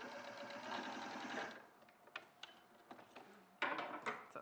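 A sewing machine stitches a quilt seam, first in a quick steady run of close mechanical whirring, then slowing into scattered clicks and short bursts as it works around intricate parts, fairly quiet overall.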